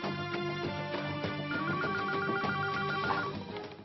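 A telephone rings with a repeating electronic ringtone melody, clear and continuous for a few seconds before fading slightly at the end.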